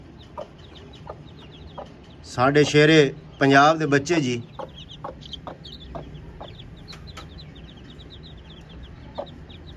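A hen clucks in short, repeated notes close by, while someone speaks briefly over the clucking.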